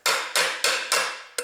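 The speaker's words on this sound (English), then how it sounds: "after that I have to hammer this deeper, this area." A hammer beats out a dent in a metal BMW engine part, giving five sharp, loud, close metallic strikes in an uneven rhythm with brief ringing decays.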